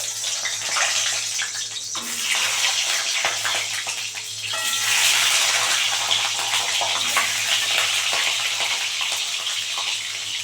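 An egg dropped into hot oil in a pan for a Bengali steamed egg dish sizzles loudly and steadily, swelling to a stronger crackling hiss about halfway through and holding there to the end.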